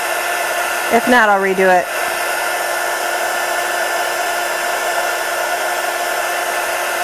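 A heat gun used for card-making embossing runs as a steady, close airy whoosh through the whole stretch, with a short burst of voice near the start.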